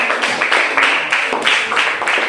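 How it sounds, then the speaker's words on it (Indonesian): Students in a classroom clap steadily for two groups, a dense, loud, continuous wash of hand claps with a faintly rhythmic pulse throughout. "Tepuk tangan untuk kelompok 3 dan kelompok 4."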